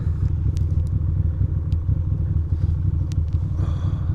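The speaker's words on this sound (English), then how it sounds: "My bike finally warmed up to 137 degrees." A motorcycle warming up on a cold Brooklyn commute idles close by with a loud, steady, low rumble and some light clatter, with no speech over it.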